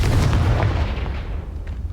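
A heavy, booming blast from the Confringo spell in Hogwarts Legacy, a loud low explosive roar that fades over about two seconds with a faint crackle of debris behind it.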